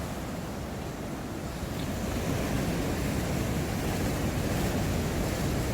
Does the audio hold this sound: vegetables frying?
no